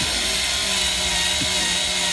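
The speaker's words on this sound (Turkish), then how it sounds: "matkabımız olmadığı için şarjlı matkapla" A cordless drill bores into the trunk lid of a Peugeot 301 or Citroën Elysee, giving a steady high whine that runs unbroken and close up for the whole stretch.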